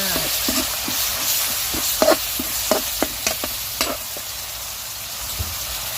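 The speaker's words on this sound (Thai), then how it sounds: "ใส่กะทิลงไปผัดกับพริกแกงเลยนะจ๊ะ" Coconut milk from a carton stir-fried with curry paste for a pumpkin and pork belly curry, with a steady close sizzle and a run of scraping, clicking stirs as the spatula works the pan.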